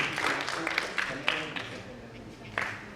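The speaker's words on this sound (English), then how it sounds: "Let's clap for him, please." Faint scattered clapping from a small award ceremony audience, a few sparse claps rising and fading over a low room background.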